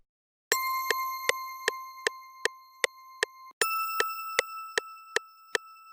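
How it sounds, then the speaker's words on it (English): A Zaytoven bell sound in an FL Studio beat plays a simple repeating pattern of bright, evenly spaced bell hits, clean and alone. The pattern pauses briefly, then continues at a higher pitch. "I then grabbed this Zaytoven bell and just added the simple pattern."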